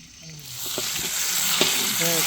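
Urad dal and dried red chilies tempering in hot oil, crackling and sizzling close up and growing louder, with a brief murmur of voices underneath.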